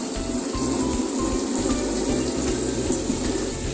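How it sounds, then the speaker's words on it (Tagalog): Water pours steadily into a children's mini-pool, a continuous loud rushing splash close by with a low rhythmic pulsing underneath, like a pump or hose running. "Palagyan natin ang water."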